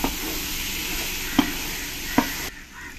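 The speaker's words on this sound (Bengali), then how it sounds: "দিয়ে ভালো করে আমি মিশিয়ে নেব সয়াবিনের সঙ্গে।" Soybean chunks tossed with packet biryani masala in a pan give a steady dry sizzle, with two sharp spoon knocks against the pan before the sound drops away near the end.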